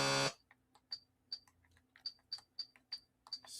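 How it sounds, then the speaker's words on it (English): Electrical buzzing during a live retro gaming show, heard as a string of short, sharp buzzy pulses repeating at a fairly regular pace over near silence, quiet overall after a brief louder burst at the start. "Sorry about the buzzing."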